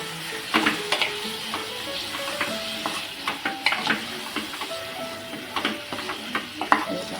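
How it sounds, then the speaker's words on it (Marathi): Marinated prawns being stirred into fried spices in a pan for a Maharashtrian masala prawn dish: a steady sizzle runs throughout, with repeated close spoon scrapes and clinks, and no talking. "आता मॅरिनेट केलेली कोलंबी आपण याच्यामध्ये टाकून देणार ही आपल्याला मिक्स करून घ्यायची आहे"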